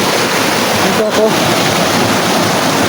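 Loud, steady rushing water fills the whole stretch, a dense broadband roar like a nearby waterfall or fast stream, with a faint voice breaking through briefly near the middle.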